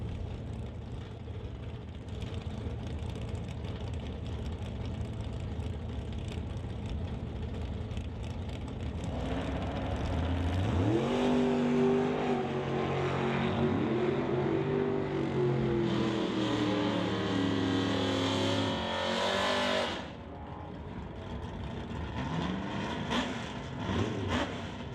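Two drag race cars, a Plymouth and the Rad Torch Systems S10, launch in a National Tire non-electronic series race. A low idle rumble swells into loud, climbing engine roars that shift through gears, then cut off abruptly into quieter background noise.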